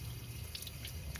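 Rusty coolant water drains out of a Ford Bronco II engine block onto the ground, a faint steady trickle with a few light drips under low rumbling background noise.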